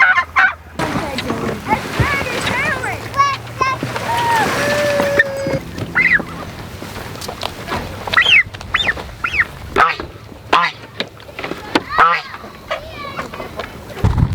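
Homestead poultry in a fresh grassy paddock quack and honk repeatedly, close and loud, in busy overlapping bursts, with a voice talking at moments.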